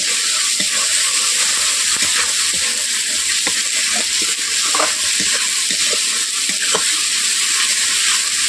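Rui fish kalia gravy being stirred in a pan, a steady bright sizzle with scraping utensil strokes recurring every second or so, close and loud throughout with no voices.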